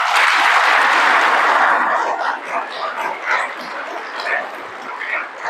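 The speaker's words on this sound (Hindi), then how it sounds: "जोर से बजाओ ताली एक बार" An audience claps together loudly at a spiritual talk in Jagdalpur, Chhattisgarh: a dense burst of applause that holds for about two seconds, then thins into scattered, fading claps.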